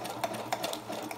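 Sewing machine backstitching along the seam of a fabric envelope, a quiet, rapid run of stitches with light rhythmic ticks, heard close with no talking.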